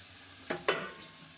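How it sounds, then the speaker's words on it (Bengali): A quiet, steady sizzle of small potatoes frying in a pan, with two quick scraping stirs close together. "আজকের আলু ভাজা করছি"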